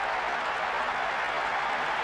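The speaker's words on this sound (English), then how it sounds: "The ref ends the game, and a huge roar from the crowd." Crowd in the PES 6 football video game roaring as the referee ends the match, a dense, steady wash of cheering and applause for two seconds.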